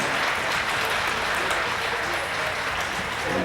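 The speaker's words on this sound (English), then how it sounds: "Another round of applause" A crowd at an equine expo trainers challenge colt-starting session claps for a horse trainer, a dense, even patter of many hands that holds steady for several seconds without talk.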